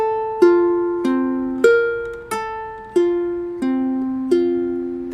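Seven finger-picked guitar notes ring out one after another at a steady, unhurried pace, each plucked clearly and left to fade before the next.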